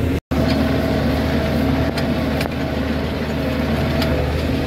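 A Massey Ferguson 3670 tractor pulls a Consum Comet 28-disc harrow across ploughed ground, its engine a steady low drone with a brief dropout near the start and faint clanks, no talk.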